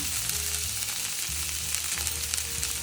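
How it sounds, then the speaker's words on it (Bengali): Ginger, fennel and green chili paste frying in a pan for potato dum aloo, giving a dense, continuous sizzle heard close up and without talk. "আদা, মৌরি, কাঁচা লঙ্কা বাটাটা দিয়ে দিলাম। ভালো করে কষাবো।"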